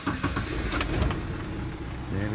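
A 1979 Toyota Corolla KE30 with a 1.2L engine starting up, the starter cranking briefly before the engine catches and runs loudly and close by.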